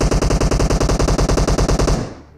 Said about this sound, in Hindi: भाई आगे से क्या ही फायरिंग की साउंड आ रही थी।